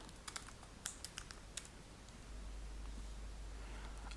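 A short burst of quiet key taps on a computer keyboard, about a dozen light clicks in quick uneven succession while entering a password, then stopping as a low steady background hiss continues.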